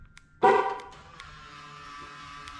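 A Nissan GTR locked with the key fob gives a single short, loud horn chirp, then a faint steady hum lingers with no talking.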